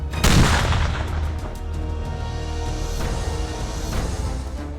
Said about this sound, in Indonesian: ledakan!